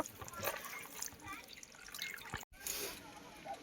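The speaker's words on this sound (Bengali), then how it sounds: "কিছুটা জল দিয়ে একটা ব্যাটার তৈরি করে নেব" Water trickles and drips into flour being mixed into batter for sweet bottle gourd pitha, a faint, uneven dribble against busy kitchen background noise, briefly cut off partway through.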